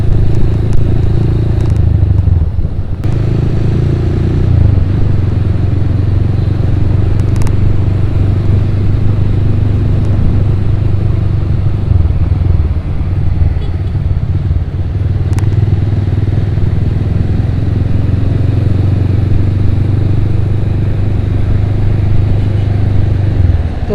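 Congested traffic in Surabaya with many motorcycles, loud low engine rumble and idling drones close by, steady throughout with occasional clatter and passing revs, no talk.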